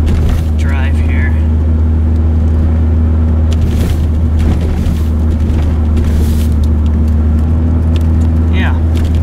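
A car driving through a blizzard on a drifted road, with a loud, steady low engine and road rumble throughout and wind noise over it, while a person talks briefly in the cabin.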